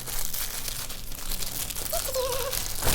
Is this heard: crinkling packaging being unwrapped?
yes